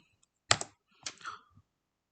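A few quick bursts of keys typed on a computer keyboard while entering a word into a Python rock paper scissors game, close and clear in two short clusters with silence around them.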